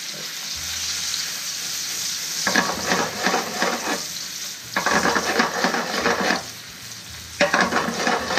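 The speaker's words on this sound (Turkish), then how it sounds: "mantarımız sotelendik. Biraz sarımsak atıyoruz." Garlic fries with sautéed mushrooms in a pan, a loud, crackling sizzle that swells in three bursts as the food is stirred, close and continuous with no talk.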